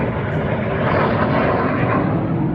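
Antique aircraft flying laps overhead near Darwin give off a loud, broad, steady engine and propeller roar that stays close and constant throughout, with no voices over it.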